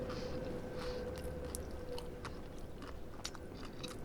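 Close, crunchy bites and wet chewing on sauced chicken wings, sweet, tangy and spicy, with steady mouth sounds and small crackles filling about four seconds and no talking.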